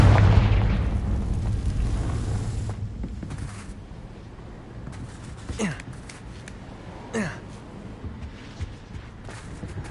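Confringo fire-spell blasts in Hogwarts Legacy go off as a heavy low boom at the start, followed by a couple of quicker whooshing bursts, with a voice calling out between them.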